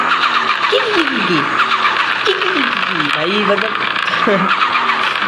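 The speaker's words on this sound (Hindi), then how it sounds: "एक तो ये टर्बो की नॉइसेस फुल की" A Toyota Vigo with a turbocharged engine revs repeatedly in a car parking game, its pitch rising and falling in several sweeps under a constant high hiss, with someone talking over it.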